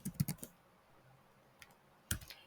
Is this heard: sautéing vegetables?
no